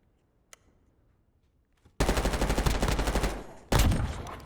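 Video game gunfire: after near silence with a single faint click, a loud sustained burst of rapid automatic shots rattles for almost two seconds, pauses briefly, then another loud burst begins.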